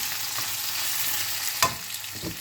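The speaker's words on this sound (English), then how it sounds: "That's the onion in. I'm just going to keep stirring." Onion frying in a hot pan while being stirred, a steady close sizzle with a few scraping clinks of the utensil, no voices.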